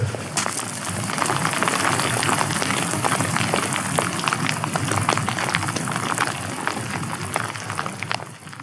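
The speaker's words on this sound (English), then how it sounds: "the rain is just pelting me in the face" Rain pelts down steadily on a hiker's hood along a gravel track while camping alone, a dense close crackle of drops with no voices.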